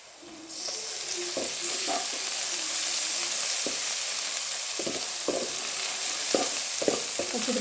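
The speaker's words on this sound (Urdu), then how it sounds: "اچھی طریقے سے لہسن کو بھی فرائی کر لیں گے 1 منٹ، تاکہ اس کا کچا پن دور ہو جائے۔" Garlic ginger paste sizzles and fries in hot oil with browned onions, a steady loud hiss broken by repeated clinks and scrapes of a stirring spoon, with no voices.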